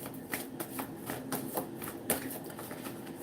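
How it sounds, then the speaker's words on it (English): Tarot cards are shuffled by hand, giving a steady run of crisp riffling and soft slapping bursts repeating about every quarter second, close and fairly quiet, with no speech. "Now, while I'm shuffling"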